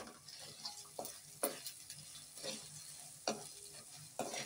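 Close-up stirring of spices into chicken chilli gravy frying in a pan: a steady sizzle broken by repeated scraping strokes of the spoon at a roughly regular pace, with no talk.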